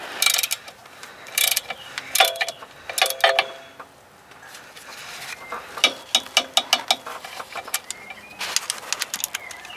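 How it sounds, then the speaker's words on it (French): A torque wrench set to 20 Nm tightens clutch bolts on a Peugeot 206 in a workshop, with short bursts of metallic ratcheting clicks that repeat in uneven spurts, close by. "on va serrer les vis du méca à la clé dynamométrique, ce qui est à 20 Nm."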